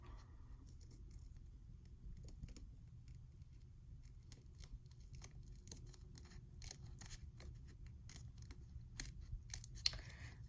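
Scissors cut around a homemade paper sticker in a quiet room, giving a run of small crisp snips and slicing clicks that grow busier and louder toward the end.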